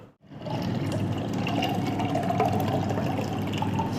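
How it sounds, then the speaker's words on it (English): Water poured into a spicy creamy tomato pasta sauce with browned beef and onion in a pan, a steady, close liquid gush that starts abruptly after a brief pause and keeps pouring evenly to the end. "Now we're gonna add the water."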